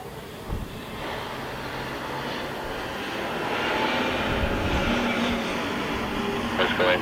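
A fixed-wing airliner comes in to land at Luton Airport, its engine roar a steady broad rumble that swells gradually louder over several seconds, with a brief thump early on.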